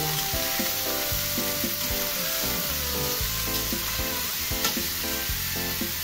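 Taro stalks frying and being stirred in a pan: a steady, loud sizzle runs throughout, with scraping stir strokes and clinks from the utensil, and no one talks.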